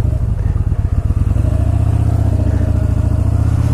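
A Yamaha 14 bolt C spec cruiser motorcycle pulling hard on a test ride, loud, close engine drone with a pulsing exhaust rhythm, no talking.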